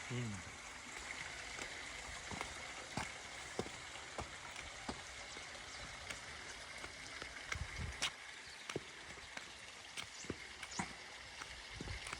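A stream of water flows by a temple at the Jogeshwari caves in Maharashtra, a soft steady trickle and patter with scattered faint drips and knocks, heard alone at low level.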